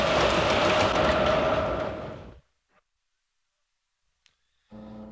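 A Lionel toy train rolls around a layout with an Amtrak train and Lackawanna MU cars in a subway section: a loud steady rumble fades to silence, and after a pause the running noise starts again.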